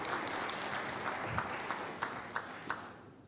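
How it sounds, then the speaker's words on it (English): An audience at the Cannes Lions Independent Agency Showcase in 2011 gives a steady round of applause, dense clapping filling the hall with a few sharper claps standing out near the end. "Round of applause, please."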